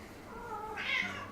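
A single drawn-out cat meow rises near the end, fairly clear and close over a low, steady background murmur.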